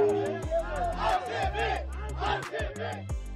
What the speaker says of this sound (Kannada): ದಶ ದಿಕ್ಕುಗಳಲ್ಲೂ ಜೈ ಆರ್ಸಿಬಿ ಕೂಗು ಜೈಂಕರಿಸಿದೆ.